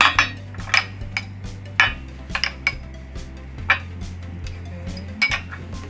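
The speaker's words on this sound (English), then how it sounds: "Cool, let's mix this up." Sandalwood oil skin paste with lemon is mixed in a bowl, making irregular clinks and taps of a utensil against the dish, close and distinct over a quiet background hum.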